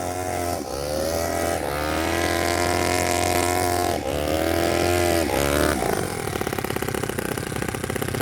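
Nitro RC basher car engine running on spark ignition instead of a glow plug, a steady loud buzzing drone with rising and falling revs, then a rougher, choppier stutter near the end, no voices.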